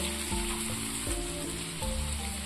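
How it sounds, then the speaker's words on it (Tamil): Fish pieces frying in hot oil in a pan for a fish masala, a steady loud sizzle with a few low bumps as the pieces shift, no voices. "இப்போ மீன் ரெண்டு சைடும் நல்லா பொரிஞ்சிருச்சு"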